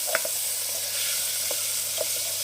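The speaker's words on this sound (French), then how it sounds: "Je baisse un peu le feu des champignons." Mushrooms frying in a pan over lowered heat while pasta water comes to a boil, a close steady sizzle with a few light clicks and stirring touches, no voices.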